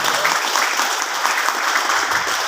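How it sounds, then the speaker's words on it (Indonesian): An audience at an Indonesian seminar applauds, a dense, steady burst of clapping from many hands filling the room for a couple of seconds, fairly loud and unbroken. "Tepuk tangan dulu buat kita semua."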